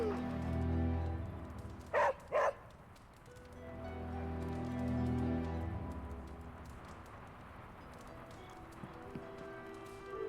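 A dog barks twice in quick succession in the video game Marvel Midnight Suns, sharp and fairly close over a steady game ambience and music bed, then the scene settles into the background score.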